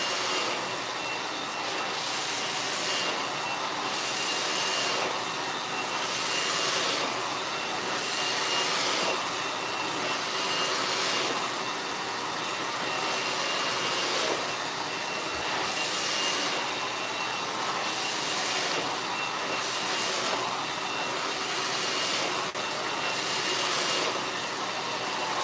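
A hair blow dryer runs close and loud while a client's hair is dried, a constant whooshing roar that swells and eases rhythmically as it sweeps back and forth.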